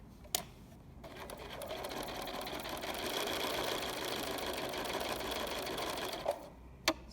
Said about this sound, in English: So we're just going to sew nice and steady all the way around, keeping an eye on that edge, make sure it doesn't slide underneath the walking foot.